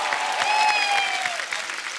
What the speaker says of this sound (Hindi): एक बार जोरदार तालियां सलमान भाई के लिए